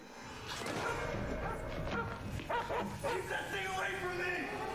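A dog yips, barks and whimpers in a supernatural TV drama scene, short excited calls repeating over several seconds against a busy background of music and voices.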